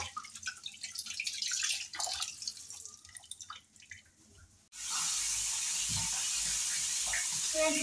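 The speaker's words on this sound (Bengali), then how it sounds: "লবণ মেখে অনেকক্ষণ রেখে দিয়েছিলাম, একটু পানি দিয়ে ধুয়ে নিয়ে নিচ্ছি" Fish is rinsed with water in a kitchen: faint drips and handling clatter first, then a steady rush of running water.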